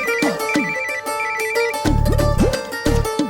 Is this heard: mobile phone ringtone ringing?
yes